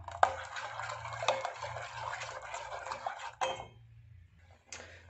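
A spoon stirs thickening milk batter in a pan on the stove, giving close scraping swishes and light metallic clinks against the pan, pausing briefly before resuming.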